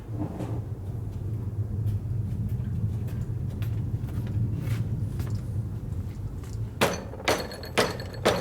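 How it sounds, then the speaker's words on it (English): Several sharp metallic body hammer strikes on metal ring out near the end, following a stretch of steady low background hum in a workshop working on a 1957 Harley panhead drag bike. "I need a little body hammer."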